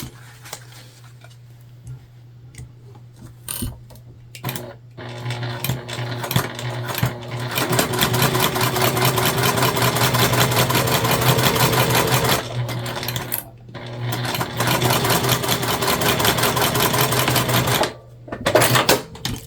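Sewing machine basting a fabric Wanderlust sling bag, its needle chattering in a steady rapid run that pauses briefly a few times, close and fairly loud.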